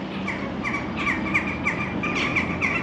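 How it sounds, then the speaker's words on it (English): Crows caw near a town with a castle and mosque in Selcuk, Turkey, several hoarse repeated calls overlapping in a quick irregular series above a constant background hum. "Look at that crows."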